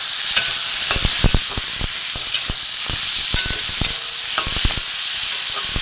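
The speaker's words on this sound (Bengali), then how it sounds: "একটু ভাজা ভাজা হোক।" Spices, poppy seed paste and green chilli fry in a pan for a snake gourd dish, giving a steady close sizzle broken by repeated sharp scraping knocks of stirring, with no voices.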